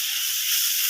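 Butter dropped into hot oil in a pan gives a loud, steady, bright sizzle that holds constant for a moment, with no voices over it.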